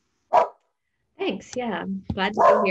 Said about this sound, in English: I'm sorry about my dogs barking in the background